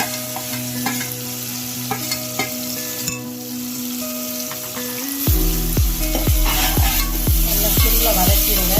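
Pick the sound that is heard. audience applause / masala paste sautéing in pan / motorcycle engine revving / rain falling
masala paste sautéing in pan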